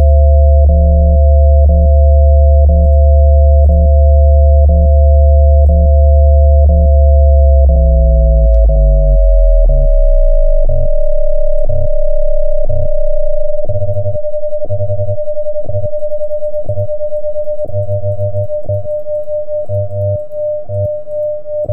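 A shortwave transceiver tuned to the WWV time station gives off a steady carrier tone with evenly spaced second ticks, and a lower hum fades out partway through. It plays alone and loud with no voices.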